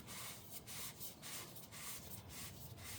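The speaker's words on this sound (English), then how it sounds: "So I'll just clean up this oil filter" Steady rubbing and wiping on the oil filter of a Lexus LS430 during an oil change, a continuous close scrubbing sound with soft rhythmic swells, no voices.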